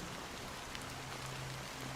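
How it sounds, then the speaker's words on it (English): Steady rain falls in a video game scene, an even wash of drops with no pause and no voices over the brief stretch. "it's still raining."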